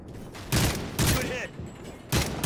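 Sniper rifle shots in Call of Duty: Modern Warfare 3, with three or four loud, sharp reports spaced about half a second to a second apart, each followed by a short echoing tail over a low background rumble.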